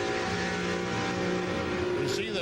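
Onboard NASCAR Winston Cup race car at Darlington Raceway in the 2001 Southern 500: a loud, steady engine drone held at high revs throughout, with a slight shift in pitch near the end and faint commentary mixed underneath.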